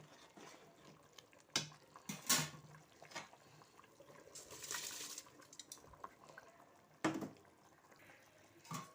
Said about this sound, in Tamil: நல்லா கொதிச்சு வந்திருக்கு பாருங்கள்